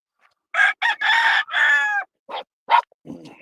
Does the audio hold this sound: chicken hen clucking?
yes